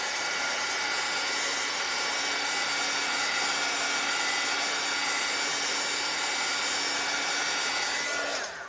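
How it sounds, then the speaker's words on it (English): A hair dryer blows on wet paint with a constant, loud, airy whir that stays steady throughout, then cuts off at the very end. "I'm gonna hit it with a dryer."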